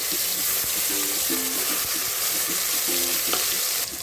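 Mutton curry ingredients with ginger garlic paste fry in a pan, giving a loud, steady sizzle close by with occasional stirring scrapes and no talking.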